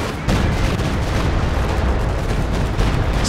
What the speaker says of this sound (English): You can see the artillery shooting again.